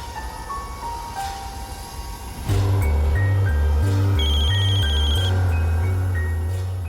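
A telephone ringing in a repeating electronic pattern, loud and close, joined after a couple of seconds by a heavy pulsing tone, with no voices.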